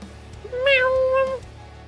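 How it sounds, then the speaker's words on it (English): A cat lets out a single loud, drawn-out screaming meow, rising sharply and then holding for under a second, close by and indoors. "I hear the cat scream."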